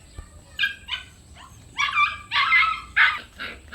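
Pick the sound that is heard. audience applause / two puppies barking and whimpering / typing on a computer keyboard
two puppies barking and whimpering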